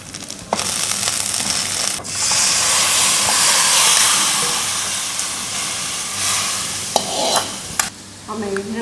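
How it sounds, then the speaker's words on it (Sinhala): Chili powder fries in hot oil for Sri Lankan fried rice, a loud, steady hiss and sizzle broken by a few sharp scrapes and stirs of the pan. "අපි තෙල් එකට මේ මිරිස් කරවන්න පොඩ්ඩක් කියලා තියෙනවා."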